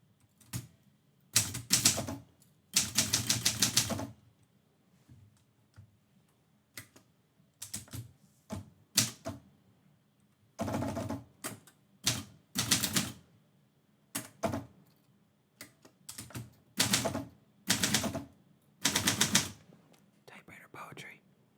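Typewriter keys clatter in bursts of rapid strikes as poetry is typed live, with short pauses between runs of keystrokes and faint carriage sounds, close and moderately loud with no talk.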